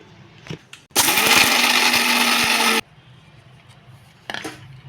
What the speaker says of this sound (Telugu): ఇప్పుడు మొత్తం మిక్సీ వేసేసుకున్నాం